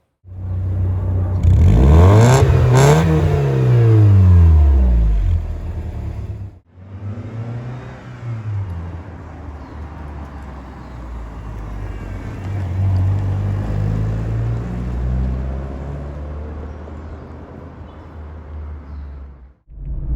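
An Opel Corsa GSi hot hatch with an imported 1.6-litre 16-valve engine revs loudly nearby, with a sharp climb and fall in pitch, then a brief cut and a long, steadier engine drone as it drives on.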